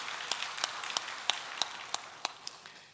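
A church congregation at a Sunday worship service claps together in a steady beat, with about ten sharp, evenly spaced claps in a row and no talking over them.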